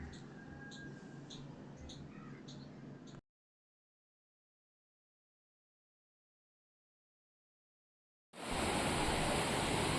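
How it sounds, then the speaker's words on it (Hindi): A large waterfall controlled by a dam behind a Hanuman temple at Tungareshwar gives a steady, dense rushing roar that cuts off into a long silence, then returns louder and brighter. "हनुमान मंदिर के पीछे ही डैम बनाया गया है, जो एक बड़े से वाटरफॉल को कंट्रोल करता है।"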